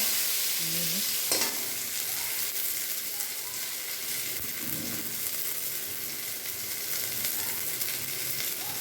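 Food stirred in a frying pan, a steady hissing sizzle with a few soft clinks and scrapes, close and even, no speech.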